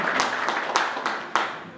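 Brief scattered applause in a meeting hall after a vote at a volunteer fire brigade congress, a few sharp claps standing out from a soft background of hands.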